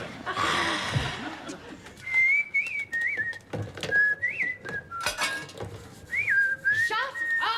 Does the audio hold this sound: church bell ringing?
no